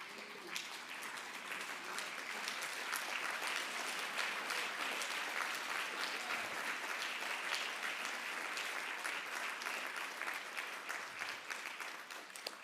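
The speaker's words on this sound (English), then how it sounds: "Let's give this man a round of applause, the Professor Lucky Matebula." Sustained applause from a large audience at an awards ceremony, dense steady clapping lasting throughout, loud and even with no speech over it.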